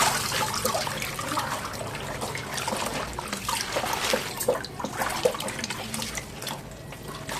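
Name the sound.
lifting washed leaves out of water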